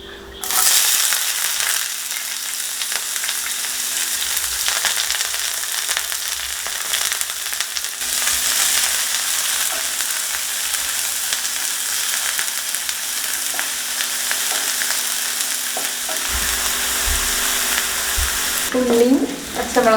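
Chopped shallots, green chilies and curry leaves fry in hot oil for a Kerala crab dish, giving a steady, loud, close sizzle with a few stirring scrapes near the end and no talking.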